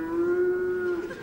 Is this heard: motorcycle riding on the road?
no